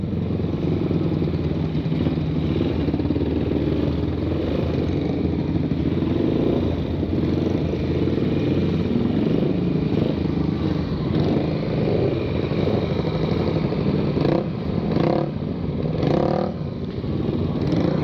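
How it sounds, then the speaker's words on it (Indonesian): Bored-up motorcycle engine idling roughly and unevenly at night in Bandung, a loud, continuous close rumble with irregular pulsing and a few uneven surges toward the end. "Ini motornya nggak tahu lagi kenapa mati-mati terus,"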